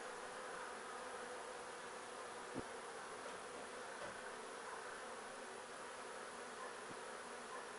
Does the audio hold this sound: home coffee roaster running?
no